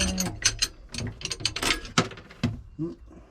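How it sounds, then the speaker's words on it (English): An idler pulley comes off the engine of a Sea Ray 240 Sundeck boat with a close run of metallic ratcheting clicks and clunks, uneven in rhythm, ending in a few sharper knocks. "Idler pulley comes out of the way."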